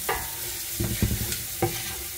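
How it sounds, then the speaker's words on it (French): A spoon stirs mussels in a pan with a few scraping, clattering strokes over a soft background sizzle, close by and without talk. "Attends, je mélange sinon ça colle."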